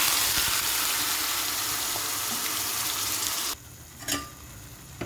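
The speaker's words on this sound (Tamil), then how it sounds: "வெங்காயம் நல்லா வதங்கட்டும் நல்லா வெந்து வரணும்" Onion paste frying in oil for chana masala, a strong steady sizzle that suddenly drops quieter partway through, followed by a brief stirring scrape.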